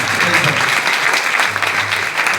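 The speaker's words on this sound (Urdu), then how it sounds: "ذرا زوردار تالی" A church congregation claps vigorously during a worship service. The applause is a dense, loud burst that holds steady for a couple of seconds, with a low hum beneath.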